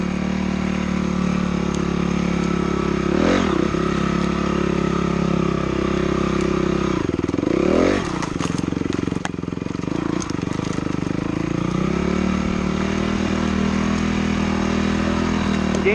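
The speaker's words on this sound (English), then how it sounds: "Now when I'm going downhill, you can see that at times I have the clutch drawn, engaged I should say," Dirt bike engine running steadily while riding downhill, loud and close with a continuous drone that dips and swells in pitch a few times as the clutch is worked.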